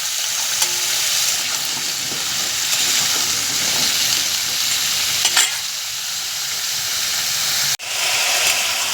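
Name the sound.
prawns frying in a pan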